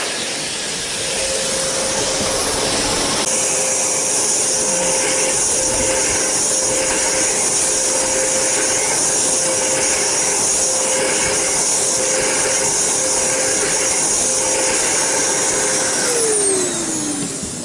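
Hoover Constellation vacuum cleaners, models 444 and S3345, running with a loud, steady roaring whoosh and a sustained whine, continuous from start to near the end, where the tone drops as the motor winds down.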